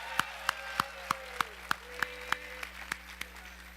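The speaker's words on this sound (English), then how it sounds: "So if we all do one last final applause for Caleb Jennis and Will McPhillips." Sparse, evenly spaced claps ring out one after another at a Ball State University sports awards show, sounding like a small group or a single person clapping slowly. Faint tonal cheers or whistles drift underneath.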